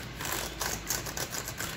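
A laptop keyboard being typed on in quick bursts, a rapid run of light plastic key clicks and taps close up, steady and uneven in rhythm, with no talk.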